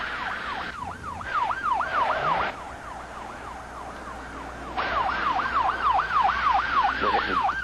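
A police car siren wails steadily in fast rising and falling sweeps during a high-speed road chase. It is loud and continuous over road noise and engine rumble, with a brief shift in tone partway through.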